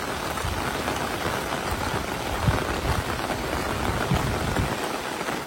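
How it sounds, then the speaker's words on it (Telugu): Heavy rain pours steadily outdoors at night with wind, a dense, continuous hiss close around with no voices. "వాన కూడా బాగా ఉంది."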